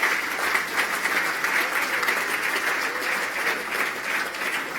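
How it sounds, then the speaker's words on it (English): A crowd at the 2013 Phelan Medal awards night applauds the winners, a steady wash of clapping lasting about five seconds with no talk over it. "round of applause for the winners so far."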